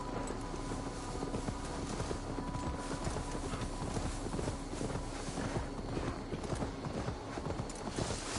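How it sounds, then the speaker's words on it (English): Hooves clop steadily and loudly from a horse in Assassin's Creed Valhalla, a dense, continuous walking rhythm under broad ambient noise across the whole stretch, with no voices. "Now to deliver Magni his horse."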